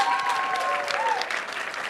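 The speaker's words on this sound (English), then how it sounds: "Can we get one more massive round of applause for our fabulous students?" A crowd gives a big round of applause for students at a PyCon AU student showcase. The clapping is loud and continuous, with a whistle-like tone or voice briefly heard over it.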